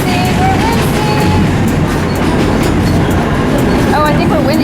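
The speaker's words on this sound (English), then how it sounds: "The B train is right next to us." Rumble and clatter of a New York City subway B train running close alongside, a loud continuous roar of rail noise with clicks and screeches through the whole stretch, while people talk over it.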